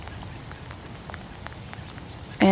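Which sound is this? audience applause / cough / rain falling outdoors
rain falling outdoors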